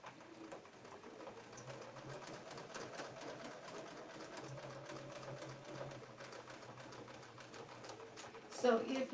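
A sewing machine stitching over a quilting template, its faint rapid whirr running steadily beneath quiet talk, with soft pigeon-like cooing in the background.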